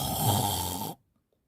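A voice imitates a bear snoring loudly, a single long, rough, rumbling snore held for about a second before cutting off into silence.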